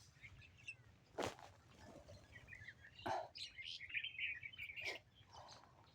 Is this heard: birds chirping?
yes